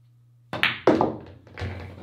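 Pool follow shot sending the cue ball into a side pocket: a sharp cue tip strike, a solid knock of balls colliding, then a duller thunk and brief roll in the pocket, close and isolated.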